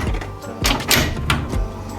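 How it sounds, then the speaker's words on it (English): A shower enclosure door is lifted and its top runners are hooked onto the top track, giving a few short clunks and scrapes against a steady background hum. "Now we're going to lift and hook in the top runners onto the top track."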